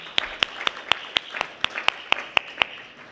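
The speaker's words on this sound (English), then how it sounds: "Can we have a big round of applause for him?" Sparse, evenly spaced hand claps from a small audience at an electric-vehicle after-sales panel event, about ten sharp claps in three seconds, moderately quiet with no talking over them.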